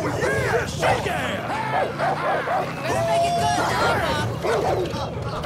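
Several dogs bark, yip and whimper in a rapid, overlapping flurry in the Far Cry New Dawn video game, with a babble of voices and game noise mixed in throughout.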